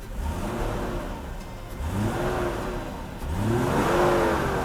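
A 300SEL Mercedes-Benz W126, about thirty years old, revs from idle after its fuel distributor was repaired, giving three quick, smooth blips that rise and fall, each a little stronger, close and with no voices.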